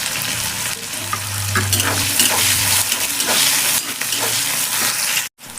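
Four small chopped onions fry in a pan, a loud close sizzle with scraping stir strokes and clinks throughout, then a sudden brief cut near the end.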